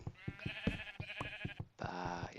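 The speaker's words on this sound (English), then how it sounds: "I will listen to the beautiful song in the background of sheep baaing." Sheep in the video game Minecraft bleat several times in quick succession, close and clear, over soft rhythmic background music.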